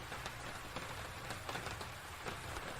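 Steady rain falling outdoors in the cold, a dense even hiss of drops on the ground with faint scattered taps, heard alone with no voices.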